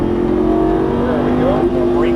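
An exotic sports car accelerates on a race track, a loud, steady engine drone rising slightly in pitch, heard from inside the cabin under an instructor's talk.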